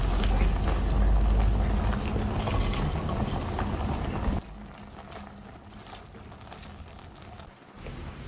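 Water spinach simmering in a pot with tofu and oyster sauce, a steady bubbling, hissing boil that drops to a softer simmer partway through.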